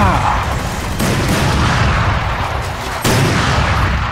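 Dense, loud gunfire from a video game weapon that can shoot through walls, a continuous barrage of booming shots with a voice faintly under it.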